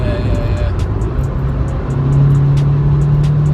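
A 300bhp Audi S1 hatchback driving on the road, its engine droning steadily from inside the cabin and rising in pitch and loudness partway through.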